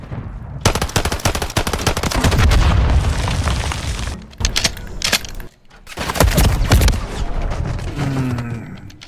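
Sustained bursts of automatic gunfire and booms from a shooter video game, loud and dense with brief pauses, ending with softer clicking and electronic tones.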